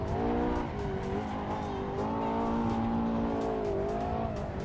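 A Ferrari drifting in the racing game Assetto Corsa: a loud, steady engine drone with pitch that rises and dips as the car slides, and tire squeal mixed in throughout, with no talking.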